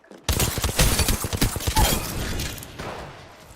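Gunfire in Apex Legends, a rapid close burst of sharp shots after a brief quiet start, hammering for about two seconds and then trailing off into a fading rumble.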